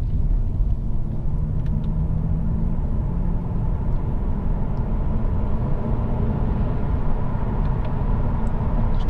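Steady low road rumble and faint wind noise inside a Lexus LS 430 saloon cruising at the legal speed limit, a continuous even drone with no talk.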